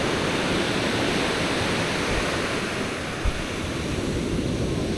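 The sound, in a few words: ocean waves breaking on the beach at Grand-Bassam, Côte d'Ivoire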